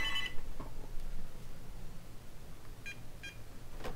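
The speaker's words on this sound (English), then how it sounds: "the phone's ringing anyway" A phone rings in short electronic beeping bursts, one at the start and two more near the end, faint and distant against a quiet room.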